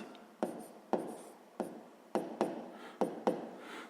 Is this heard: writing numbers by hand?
yes